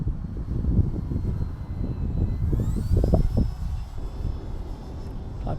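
An E-Flite Cirrus SR22T radio-controlled model airplane comes in to land, its motor humming steadily overhead with a faint rising whine and wind rumble outdoors.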